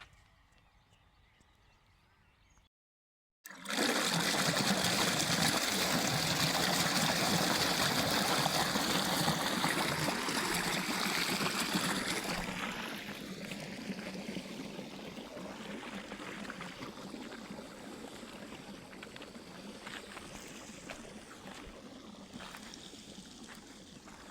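Steady rushing irrigation water pours into a farm field channel after a brief silence, loud and continuous, then settles to a softer, ongoing flow.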